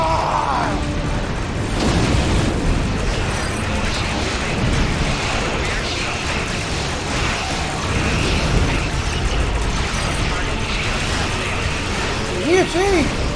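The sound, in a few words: explosion in the video game Star Trek Online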